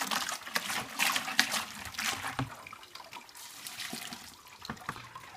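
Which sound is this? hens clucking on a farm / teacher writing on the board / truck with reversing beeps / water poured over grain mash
water poured over grain mash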